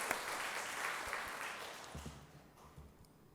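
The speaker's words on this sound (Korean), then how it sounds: "우리 수고한 모둠들 우리 박수 한번 하도록 하겠습니다." Applause from a church congregation during a Sunday morning worship service, a broad wash of clapping that starts fairly strong, thins and fades over a few seconds with a few low knocks near the end.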